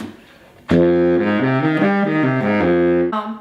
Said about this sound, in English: We'll arpeggiate the chords that go along with each of these scales.